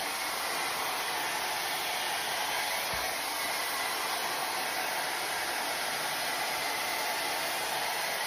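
A Shark IQ blow dryer drying hair, running continuously with a loud, steady airy roar from start to finish, close to the ear.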